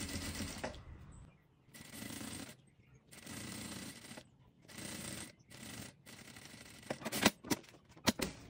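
A sewing machine stitches crystal plastic for a notebook cover, running in several short bursts separated by pauses, followed by a few sharp clicks and taps near the end.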